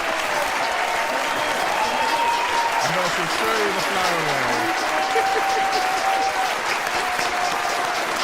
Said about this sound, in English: some rapturous applause for that one, ladies and gentlemen